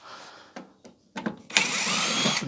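A DeWalt cordless drill whirs in a few short bursts, then runs steadily at full speed, loud and close, while repairing a Miele dishwasher.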